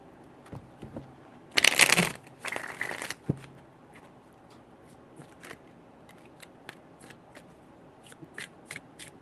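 Tarot cards are shuffled by hand in a loud riffling burst of about two seconds near the start, followed by scattered light taps and flicks of cards.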